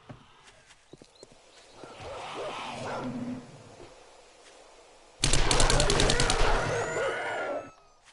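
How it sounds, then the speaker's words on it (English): A dog barking in the distance, faint yaps and calls early on, then a burst of rapid, loud sharp barks for a few seconds before it drops away. "That is a dog."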